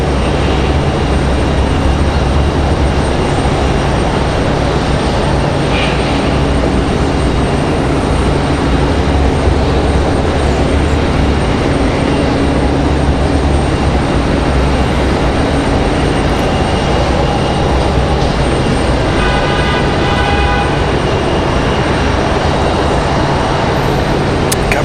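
A Breeze Airways Airbus A220 jet taxis and takes off at Raleigh-Durham International Airport, a loud sustained broadband engine roar filling the whole stretch with little variation, a faint tonal whine rising near the end.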